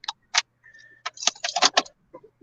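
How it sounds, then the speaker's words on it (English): Car keys jangle in a few short, bright metallic bursts that clink and rattle close by, separated by brief pauses and a faint chime in quiet surroundings. "Keys in the ignition, doors open."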